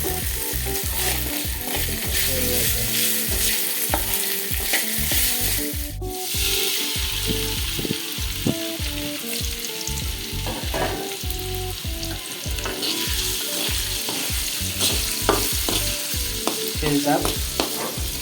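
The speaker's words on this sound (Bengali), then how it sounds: "আমাদের ভাজা প্রায় হয়ে গেছে" Beef tripe fries in a pan with a steady loud sizzle, broken by repeated scraping and stirring strokes of a spatula against the pan throughout.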